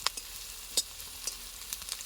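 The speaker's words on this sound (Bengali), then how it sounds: "পেঁয়াজটা ভাজা হয়ে এসছে" Onions fry in a pan for a bitter gourd curry, giving a faint, soft sizzle punctuated by a few light stirring clicks, quiet and close with no voices.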